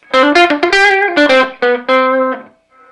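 Electric guitar played through a Marshall JCM 2000 DSL 50 amp with reverb: a quick run of bright, sustained notes and short chords, loud and close, ending on a held note that rings out softly in the reverb tail.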